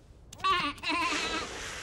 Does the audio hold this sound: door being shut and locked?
no